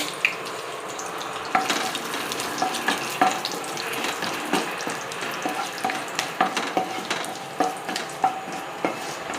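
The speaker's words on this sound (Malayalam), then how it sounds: "നമുക്കിനി ഇത് നല്ലതായിട്ട് വഴറ്റാം" Whole spices, including cardamom, sizzle steadily in hot ghee while a spoon scrapes and stirs the pan in a regular rhythm, close and fairly loud.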